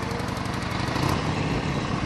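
A motorcycle engine running on 100% synthetic oil while being ridden gives a steady, light, buzzing drone with a fast even pulse, close and continuous.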